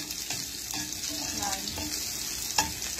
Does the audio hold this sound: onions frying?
yes